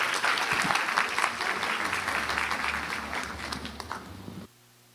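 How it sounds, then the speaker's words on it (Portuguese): Dense audience clapping at a Brazilian event on family foster care, strong and continuous before cutting off abruptly into near silence. "Uma salva de palmas."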